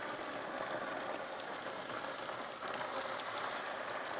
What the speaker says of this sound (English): look at the size of that rain